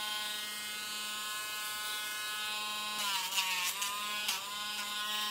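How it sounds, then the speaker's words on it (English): A Dremel rotary tool smooths a dog's nails, giving a steady, faint high-pitched whine throughout with brief pitch dips where it touches the nail. "I'm not putting the Dremel at all on the center of the nail because it's already short enough."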